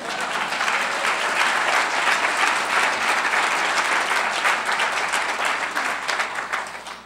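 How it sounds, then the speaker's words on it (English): An audience at a city's State of the City address breaks into loud, sustained applause that fills the room for about seven seconds, tapering slightly at the end. "give bikes a round of applause"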